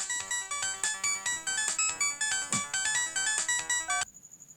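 A mobile phone rings out on an outgoing call, a repeating melodic ringtone in quick, regular pulses that cuts to a fainter steady tone near the end, with no talking.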